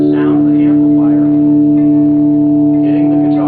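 Les Paul Studio electric guitar through a tube amplifier, held notes sustaining steadily with a droning harmonic ring that swells slightly, continuous and fairly loud for several seconds.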